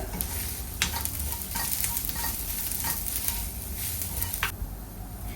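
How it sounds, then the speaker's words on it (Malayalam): Crushed dried red chili and turmeric powder fry in oil in a pan for a vanpayar stir-fry, giving a continuous close sizzle broken by brief clicks and scrapes of stirring. "ഞാൻ ഇവിടെ ഒരു ടേബിൾ സ്പൂൺ ചതച്ച വറ്റൽ മുളക് ചേർത്തിട്ടുണ്ട് അത് മൂപ്പിക്കുക"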